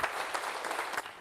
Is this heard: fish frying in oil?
no